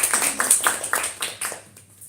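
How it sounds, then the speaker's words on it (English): A small audience at an install fest claps in a brief, close burst of a few uneven hand claps that quickly fade out. "Can we have a round of applause"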